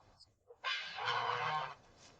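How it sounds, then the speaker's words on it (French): A goose gives a loud, drawn-out honk lasting about a second, close by, preceded by a few faint short calls and quiet background. "J'ai des oies de course à vendre."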